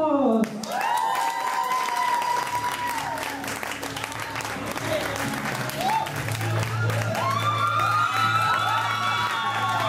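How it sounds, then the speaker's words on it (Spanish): Applause and cheering from a crowd at an evening talent show, a sustained dense wash of clapping with whoops and shouts, while an announcer's voice rings over it throughout. "un aplauso para Alex Campos"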